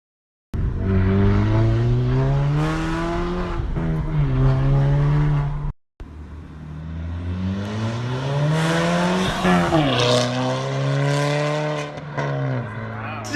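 Catless Mk6 GTI exhaust revving, a loud raspy engine note climbing and falling in two long pulls split by a brief cut, close by and without talk.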